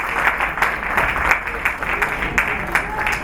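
An audience at a literature festival applauds a singer, a steady roll of many hands clapping that fills the hall, fairly loud, with faint voices murmuring beneath.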